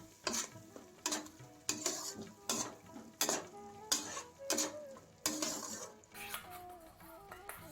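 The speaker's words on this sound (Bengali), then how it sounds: "একটু গরম মশলার পাউডার দিয়ে ভালো করে এটা আমি মিক্স করে নেব" Steady rhythmic scraping and clanking of a spoon in a pan stirring garam masala and Kashmiri red chili into shahi paneer gravy, about one stroke per second, close and clear over a faint sizzle.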